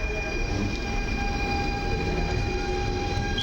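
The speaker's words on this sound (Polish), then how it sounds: "rusza po linii podmiejskiej w kierunku stacji Warszawa-Służewiec" A PKP train departing Warszawa Zachodnia on a suburban line on a foggy night, a steady rumbling roll with sustained high tonal whine from traction motors, moderately near and unbroken throughout.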